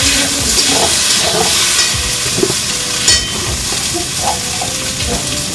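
Potatoes and spices sautéing in a pan give off a steady, loud hiss and crackle, with occasional scraping from stirring throughout.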